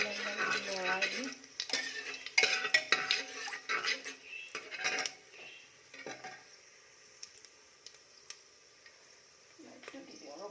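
A spoon stirs cumin, cloves and cardamom in a metal pan for pulao, with clattering scrapes and knocks against the pan, a faint sizzle, and someone talking over the first half before quieter stirring follows.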